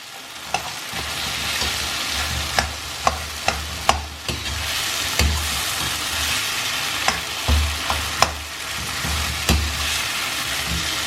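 Egg being stir-fried and chopped in a pan for a simple Chinese egg and tomato stir fry, with a steady sizzle broken by repeated sharp scrapes and taps of the utensil against the pan, close and alone with no talk.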